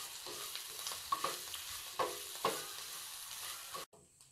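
Chillies and spices fry in a pan for raw mango chutney, a steady close sizzle with a few sharp spoon scrapes and clicks before cutting off near the end.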